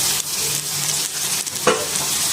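Neem leaves are stirred into already fried brinjal in a hot pan, giving a steady, close sizzle with scraping stirs and a brief louder clatter partway through.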